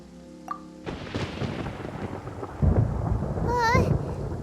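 Thunder rumbles in Genshin Impact, a broad, deep roll that builds and swells over a few seconds amid a stormy wash, with a brief tonal game chime sounding above it.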